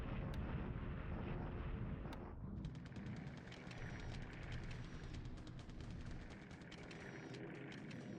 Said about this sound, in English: Never mind, that's us bombing him.